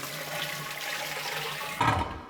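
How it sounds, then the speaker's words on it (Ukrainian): Water pours steadily into a pressure canner (autoclave) while preparing meat bolognese sauce, a continuous close splashing rush with a brief louder gush near the end. "І тому просто долиємо нашу водичку на рівень, що потрібно."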